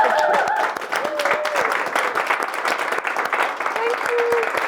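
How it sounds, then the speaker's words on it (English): A room full of people, standing, gives a big round of applause for a woman at a marketing event, with close, dense clapping throughout and a voice speaking briefly over it. "give us the biggest round of applause you can manage"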